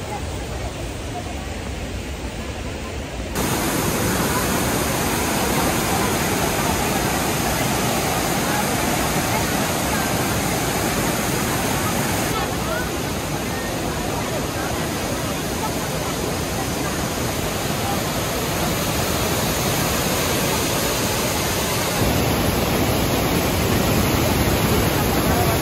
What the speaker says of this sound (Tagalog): We're here at Vietnam Waterfalls!